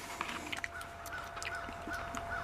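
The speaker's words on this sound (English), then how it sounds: "And a bunch of crows." Several crows caw in a steady stream of harsh calls, some nearer and some farther off, over a constant outdoor background hum with no talking.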